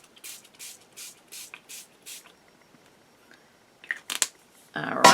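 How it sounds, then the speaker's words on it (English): A hand spray bottle mists over stacked paper sheets in a series of six short, even spritzes, followed by a pause and then a few sharper bursts and rustling at the end, close and fairly quiet with no talking. "I'm going to give it a little spray to see what I'm doing."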